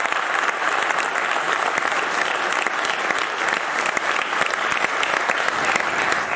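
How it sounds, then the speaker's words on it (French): An audience at an awards ceremony applauding, a dense, steady wash of many hands clapping that holds at full strength throughout, loud and close. "Je voudrais que vous les applaudissiez ce soir."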